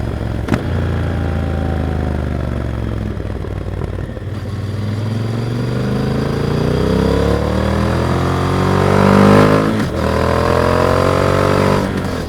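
Onboard motorcycle engine and exhaust, captured from a microphone mounted on the rear fender, hold a steady loud drone that rises and falls through revs, with pitch sweeping up and back down and brief gear-change dips.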